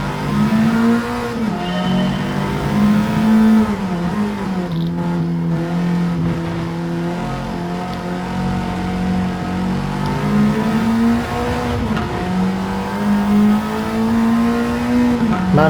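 A 2014 Alfa Romeo 4C racing at Road Atlanta in Gran Turismo 7, a loud continuous engine drone rising and falling through revs and gear changes, with occasional brief tire squeal.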